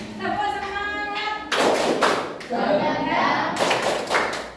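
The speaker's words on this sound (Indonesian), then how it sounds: "Tepuk semangat." A classroom of students stands and claps a rhythmic spirit-clap routine (tepuk semangat) in bursts of loud, sharp clapping, with a voice heard over the group before the clapping starts.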